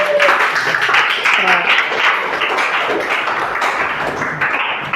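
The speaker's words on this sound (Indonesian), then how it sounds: "tepuk tangan buat Angga deh" Students in a chemistry class clap for a classmate named Angga, producing a dense, close patter of hand claps that lasts several seconds, mixed with voices talking over it.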